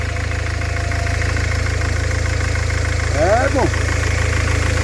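A car engine idles steadily with a low mechanical hum after the fuel line is primed following a petrol-for-diesel misfuel; someone speaks briefly over it.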